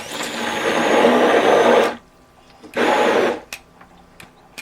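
A KitchenAid kitchen appliance churns thick tomato sauce in a cramped RV kitchen, a loud whirring burst of about two seconds, a pause, then a second shorter burst followed by faint clicks.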